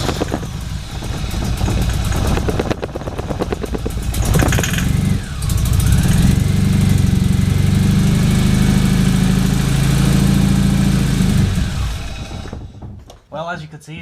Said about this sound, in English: I'll spray some starting fluid in so you can hear it run